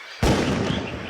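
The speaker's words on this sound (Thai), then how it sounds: "ฉันได้ยินเสียงปืนหลายนัดแล้วอะ" A single sharp, loud gunshot from poachers rings out in a forest in a radio drama, followed by a rumbling echo that fades over the next second.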